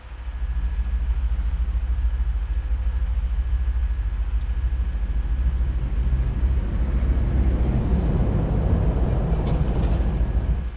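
Steady low rumbling ambience of a train depot in a video game, with a continuous mechanical drone and faint distant clanks, growing slightly busier toward the end.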